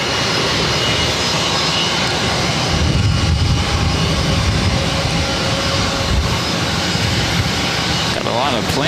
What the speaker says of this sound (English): Got a lot of planes going on here.